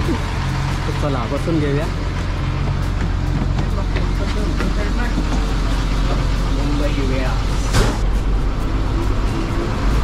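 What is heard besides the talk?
MSRTC bus departing Mumbai Central bus station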